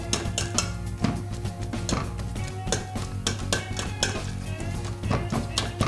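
Repeated dull thuds and scraping clinks of a utensil against a pot as cooked pumpkin is pressed and mashed by hand, in an irregular rhythm over a steady low hum.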